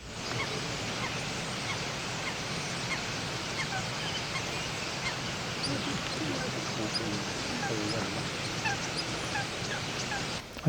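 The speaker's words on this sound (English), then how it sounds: "for the rest of the evening, it was just a continuous stream of birds coming into roost. And the noise just seemed to reach an amazing pitch" A huge flock of starlings settling into a reed-bed roost for the evening makes a dense, continuous roar of chattering and calling that stays loud and unbroken throughout.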